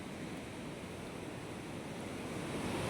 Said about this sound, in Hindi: यहाँ पे देख लीजिए आप कितना भयंकर पानी है